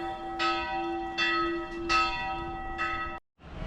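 Church bells in Petrovaradin toll at noon, four loud ringing strikes with long humming overtones spaced about every half second to second, then a sudden cut and faint street noise.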